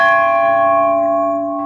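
A bell at the entrance gate of a Hindu temple rings once, loud and close, its bright metallic tone holding steady and fading slowly with no voices over it.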